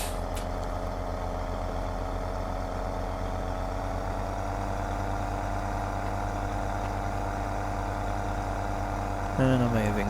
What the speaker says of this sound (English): The tractor sounds nice taking over.